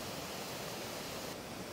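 A mountain stream beside a roadside hut in Benguet rushes as a steady broadband wash of flowing water. The sound is soft and continuous, with no voices.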